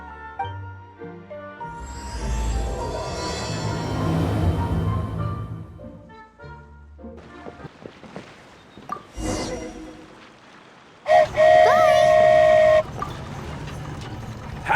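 A train ride over the sea in Genshin Impact, with a rising rumble of the train, rattling clacks, a whoosh, then a loud sustained horn toot, all mixed with game music.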